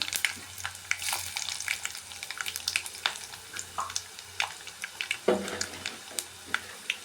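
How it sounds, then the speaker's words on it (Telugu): Tempering spices including dried red chillies crackle and pop in hot oil, a quiet steady sizzle dotted with many sharp, irregular spits and snaps. "పోపు వేసుకుందాం."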